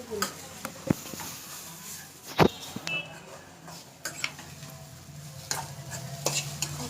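Egg being stirred into rice in a pan, with soft sizzling under intermittent spoon scrapes and sharp clacks against the pan, close by and with no talking.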